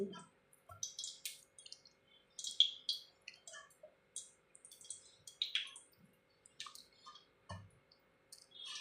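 Fried fish pieces go into water in a pan, giving faint, scattered wet drips, splashes and soft clicks at irregular intervals against a quiet background.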